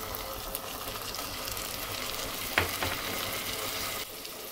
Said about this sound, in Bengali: আমার পেঁয়াজটা একটু ভাজা ভাজা হয়ে গেছে, এখন আমি মশলাগুলো দিয়ে দেবো।